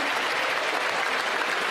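Steady, dense applause fills a parliamentary chamber as both sides clap together after a federal budget vote passes, a continuous even roar of many hands with no pauses.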